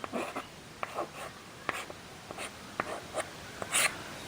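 A teacher writes on a board with quick, uneven strokes and taps, giving faint scratches and clicks that come in short irregular bursts with brief pauses between them.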